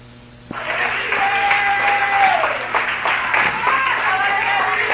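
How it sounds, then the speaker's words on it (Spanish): A church congregation breaks into steady applause during a service, the clapping starting abruptly and continuing with some voices and a sustained tone under it. "denle un aplauso."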